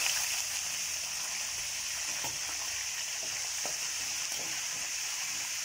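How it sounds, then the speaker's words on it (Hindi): Curry leaves fry in very hot oil for dry fruit chivda, giving a continuous bright crackling sizzle, close and steady, with a few faint stirring knocks underneath. "यही ऑयल में करी लीव्स भी फ्राई कर लेंगे"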